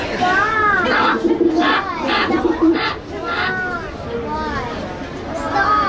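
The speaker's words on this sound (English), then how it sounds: "Why did I let Shim talk me into putting that aviary next to the living quarters?" Pigeons or doves coo repeatedly in an aviary beside living quarters, a steady layer of soft, warbling calls with some chatter, heard under continuous conversation.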